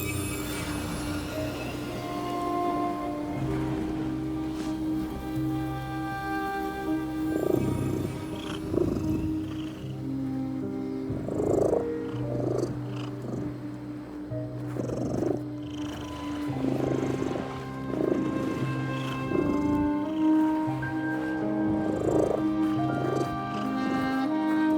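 A cat purrs in The Midnight Walk, its steady low purr layered under sustained musical tones and soft swelling rumbles that pulse every few seconds, quiet overall with no voices.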